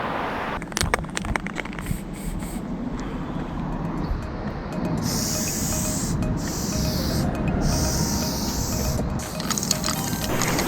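An aerosol spray paint can hisses in a few long bursts, with softer rustling and handling noises between sprays, during school graffiti painting.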